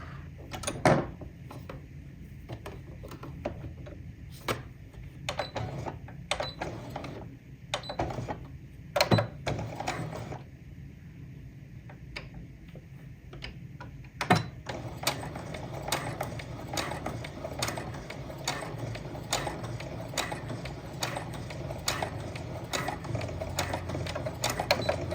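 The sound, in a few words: sewing machine stitching an apron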